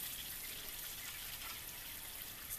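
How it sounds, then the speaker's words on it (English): Wonton chips fry in hot oil with a dense, steady crackling sizzle like light rain, constant throughout with no speech. "You can see how fast they're going to fry once they get into that oil."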